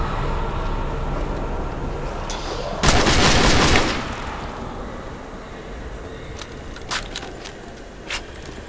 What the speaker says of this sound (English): This is the M14.